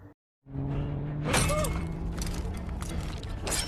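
Glass shatters as someone breaks a car window, a sudden sharp crash with scattering fragments following a brief silence, then rustling and clattering continue over a low hum.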